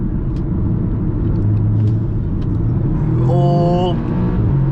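A Stage 1 Ecotune-tuned Audi S3 driving on the road, heard from inside as a steady loud engine drone and road rumble, with a rising rev near the end.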